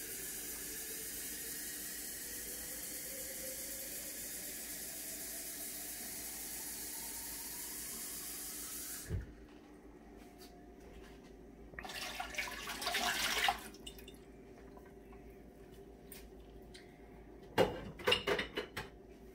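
Water runs steadily into a metal pressure canner for several seconds, then cuts off, followed by scattered clanks and clatter of metal.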